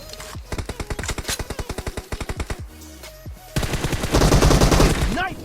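Automatic gunfire in the mobile game PUBG, played on an OPPO Reno 6 Pro phone: a fast, evenly spaced burst of around twenty shots, then denser, louder overlapping fire close up.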